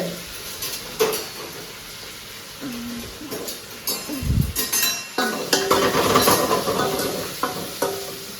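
Crushed cumin, garlic, dried red chilies and curry leaves go into a hot pan, giving irregular sizzling and stirring noises with a few clinks, building louder and busier toward the end, no voices.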